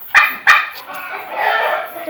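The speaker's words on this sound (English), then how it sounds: "She's a little dog." A small female dog, in a barn with baby goats during a snowstorm, gives two sharp, close barks followed by quieter yips and whimpers, with people talking over the noise.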